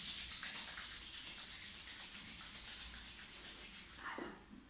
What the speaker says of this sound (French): Je frotte les mains.